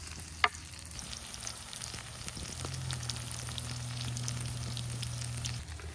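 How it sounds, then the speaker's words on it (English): Eggs frying in a single pan with smoked paprika and fresh thyme for brunch give a soft, steady sizzle with a small clink near the start, continuing alone without voices. "A little bit more smoked paprika. And wait for those eggs to cook."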